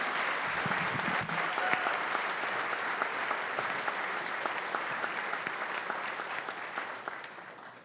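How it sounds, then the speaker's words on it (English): A concert audience applauds the Cayman National Choir and Orchestra as the singers leave the stage, a dense, steady wash of clapping lasting throughout and thinning slightly toward the end, with a brief voice early on. "Let's give them another round of applause as they make their way back down"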